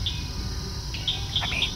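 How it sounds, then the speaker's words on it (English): Soft evening birdsong at sunset, a few quick chirps and tweets near the end, over a faint steady insect hum and low outdoor rumble. "All the different birds, the insects."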